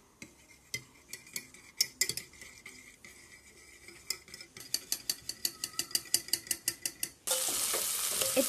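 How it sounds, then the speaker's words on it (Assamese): Two eggs are beaten in a bowl, with a fork or whisk clicking against the sides in irregular strokes that turn into a fast, steady rhythmic tapping, then a loud sizzle starts as they hit the hot pan. "প্ৰথমে কণী দুটা ফেটি ল'ম"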